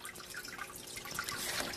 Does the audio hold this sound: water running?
yes